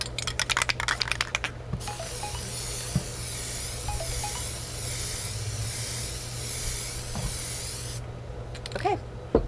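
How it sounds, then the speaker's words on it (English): An aerosol can of Plasti Dip glossifier hisses in one long continuous spray coating a tumbler, steady and close, framed by brief clicks and handling noises before and after. "here we are for the second spray of the Plasti Dip glossifier"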